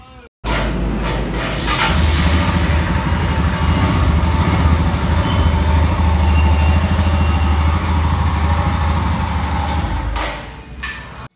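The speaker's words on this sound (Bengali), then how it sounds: "এই বাইকের আওয়াজটা চলো তোমাদের সাথে শেয়ার করি" A Royal Enfield Himalayan motorcycle engine runs steadily at close range, a loud, even low-pitched rumble that holds for about ten seconds before cutting off.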